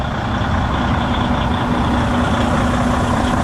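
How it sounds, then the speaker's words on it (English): A Freightliner Cascadia truck's heavy diesel engine idles steadily with a deep, continuous rumble and a faint whine, loud and close with no other sounds. "Start the truck up."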